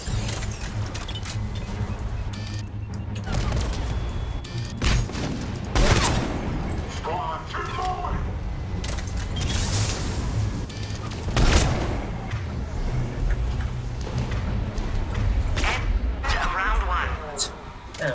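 Sniper rifle shots ring out in the video game Mass Effect 3, a few sharp cracks and booms spaced through the clip under near-constant talking over game sounds.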